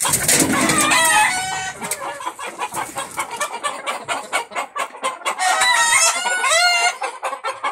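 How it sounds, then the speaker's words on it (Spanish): Several chickens cluck and squawk busily, close by and loud, with a rooster-like call rising among the steady, overlapping chatter of the flock. "esa negra que parece el luchador más Henry, pero en versión gallina."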